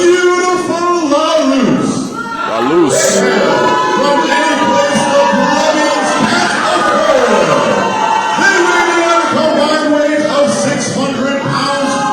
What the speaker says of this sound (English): the hometown boy getting the reception from the crowd here in Eastfield Mall